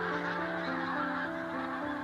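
A large flock of geese migrating from Greenland to the barley fields of Scotland's Montrose Basin honks continuously, many overlapping calls forming a dense, steady chorus.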